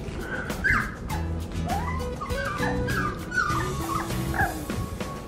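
Five-week-old English cream golden retriever puppies whimper and yip in short, high, wavering cries, several overlapping close by with scuffling underneath.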